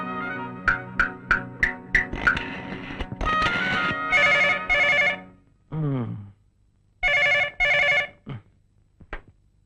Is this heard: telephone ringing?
yes